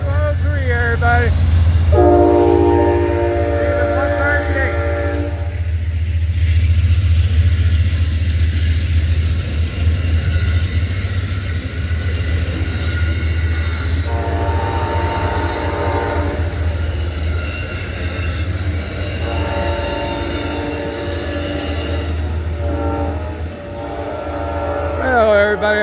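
Amtrak locomotive 203 leading a Northeast Regional passenger train westbound, its loud horn sounding in several long blasts over the heavy rumble of the passing train, with a voice speaking briefly.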